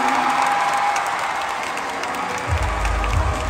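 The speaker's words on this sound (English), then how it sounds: "And the crowd goes wild." Applause and cheering from an audience at the Miss Cagayan de Oro 2022 beauty pageant, steady dense clapping that swells with deeper crowd roar toward the end, with no talk over it.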